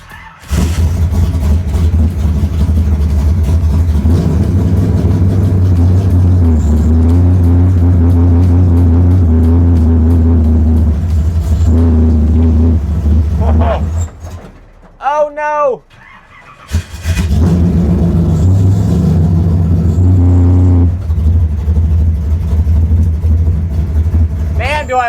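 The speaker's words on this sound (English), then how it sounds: "this is a straight cut gear transmission, so we don't need the clutch to shift it" A NASCAR race car with a straight cut gear transmission drives on a rough road, its loud engine droning and revving up through gear changes, with a brief drop and a sharp whine midway, and someone talks throughout.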